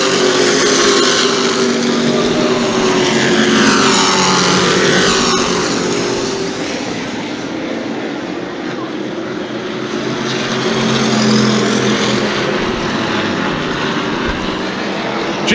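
Sportsman stock cars racing at New Smyrna Speedway make a loud, continuous engine roar that swells and fades as the pack passes, heard close with no break or talking.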